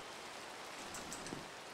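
Steady rain in a Pixelmon Minecraft playthrough: a faint, even hiss of falling drops with no breaks or louder moments.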